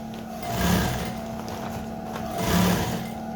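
A sewing machine stitches a native trouser with a steady mechanical whir and a rapid needle rhythm that swells twice, running close and continuous with no talking.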